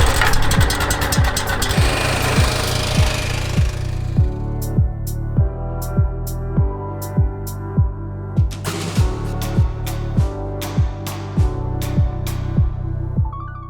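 A mower cutting a TifTuf Bermuda couch grass putting green gives a close, steady engine drone with a regular rhythmic pulsing and short clicking ticks throughout.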